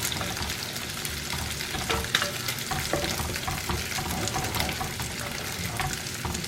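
Vegetable fried rice with mint and coriander leaves cooking in oil in a home kitchen pan, a continuous dense sizzle and crackle with light scraping of stirring, loud and close with no voices.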